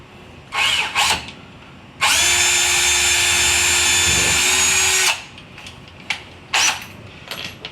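A power drill bores a short pilot hole in one continuous whine of about three seconds. Quieter handling knocks come before and after it.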